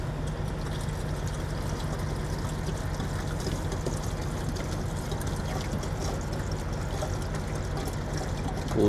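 Washer fluid pouring from a jug into a truck's washer reservoir, a steady continuous trickling flow heard close up over a constant low engine hum, with no talking.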